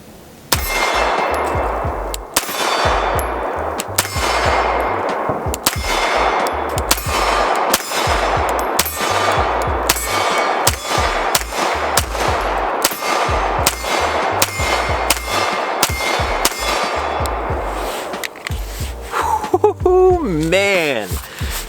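A Salient Arms STRIKE Tier 1 pistol fires 115 grain FMJ rounds in a steady, rapid string of loud, sharp ringing shots, roughly one every second, continuing through a full magazine.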